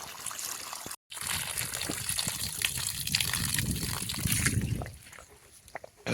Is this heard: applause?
no